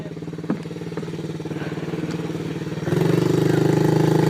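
A dirt bike engine idles nearby with a rapid, steady putter, broken by a few sharp clicks, then it blips to a louder, fuller idle partway through.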